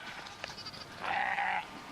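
A single sheep bleats once, wavering and moderately close, after a few faint scattered sounds on a quiet hillside.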